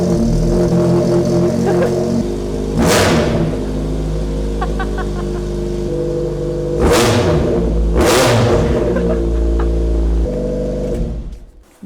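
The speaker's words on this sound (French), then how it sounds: "j'ai envie de démarrer sans l'échappement, voir ce que ça fait." Nissan Micra engine running with no exhaust fitted, a loud raw idle punctuated by three sharp revving bursts, then cut off at the end.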